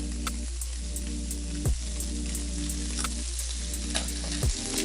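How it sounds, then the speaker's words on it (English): Snapper fillet searing in smoking hot oil in a pot, a steady close sizzle and crackle running throughout with a few soft bumps and clicks, no talking. "You hear that nice sizzle? That's what you want."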